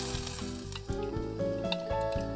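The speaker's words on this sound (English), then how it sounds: "So the onions are fried off a little bit. Gonna add a drop of water in there." Onions frying in a pan at a cold winter campsite sizzle loudly after a drop of water is added, a close crackling hiss that rises and stays steady, heard without talking.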